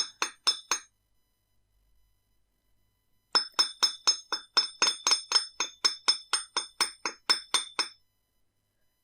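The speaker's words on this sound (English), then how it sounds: "Then we can hammer the rest of that hook in exactly the same way as we did with the links." Small hammer striking a wire bracelet hook to flatten it, three quick metallic taps, a pause, then a long steady run of bright ringing clinks, close and clear with no talk.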